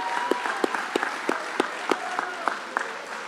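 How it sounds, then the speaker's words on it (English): An audience at a senior awards ceremony gives a round of applause for a senior athlete, steady dense clapping with scattered louder individual claps throughout, moderately loud and without talk. "Let's wish him a big good luck and a round of applause."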